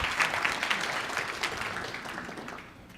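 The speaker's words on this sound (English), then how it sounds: "Give him a nice round of applause." At a WorkSource Summit 2017 conference session, an audience claps in a brief round of applause, moderately loud and tapering off toward the end.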